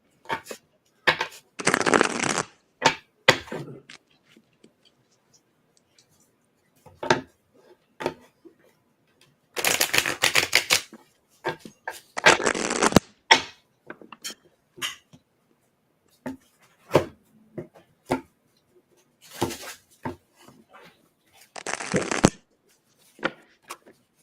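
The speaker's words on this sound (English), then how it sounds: "My cards are sticky, so I'm really shuffling." A sticky deck of reading cards is shuffled by hand in repeated bursts of riffling and snapping, with short pauses, isolated taps and a few clicks in between.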